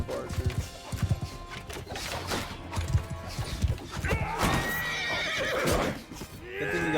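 Horses whinny and hooves clatter amid a mounted battle in Mount and Blade II: Bannerlord, with dense close hoofbeats, crashes and neighing under battle noise and faint talk.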